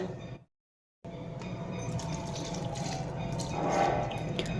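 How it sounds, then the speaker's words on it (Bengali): A little water poured into a mixer jar holding chopped beetroot for a veg momo paste, a steady close trickle and splash running for a few seconds after a brief silence. "এবার আমি এর মধ্যে দিয়ে দেব সামান্য জল"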